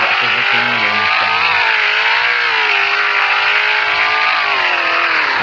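Car engine in the Roblox game Lebuhraya Perak, a steady loud drone with rising and falling revs throughout, close and continuous with no talk over it.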